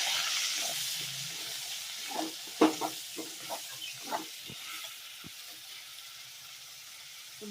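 Chopped onion dropped into hot oil with cinnamon, cardamom and fennel seeds sizzles in a pan, a soft steady hiss broken by a few faint clicks and stirring taps.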